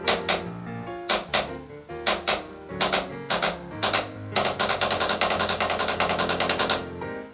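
A snare drum plays rapid double-stroke roll bursts, starting as spaced clusters and then speeding into a dense, even roll, crisp and close.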